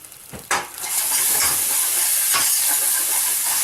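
Garlic, ginger and spices fry in a hot pan for spiced rice with lentils, a steady loud sizzle that swells after a sharp clatter of stirring, with scraping strokes breaking through now and then; no one speaks.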